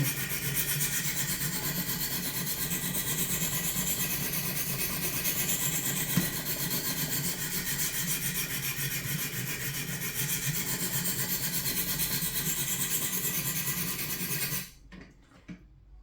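Steady, continuous scraping as a knife blade is drawn over the stones of a Wicked Edge sharpener, pass after pass with an even rasp, stopping abruptly near the end.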